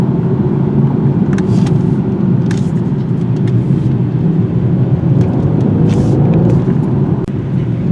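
A 2022 BMW 230i Coupe driving through tight corners gives a steady, loud engine and road rumble inside the cabin, with no letup over the full stretch and a few brief higher whooshes.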